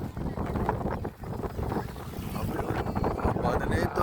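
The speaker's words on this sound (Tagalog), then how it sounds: "Grabe ang hangin dito ba?" Strong wind by the seaside roars across the microphone as a dense, gusty rumble, with people talking underneath it.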